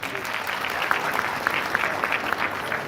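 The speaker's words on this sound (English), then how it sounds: "Colleagues, clap your hands once more." Guests clap their hands at a hotel reception, a steady wash of crowd applause held at an even, moderate level throughout.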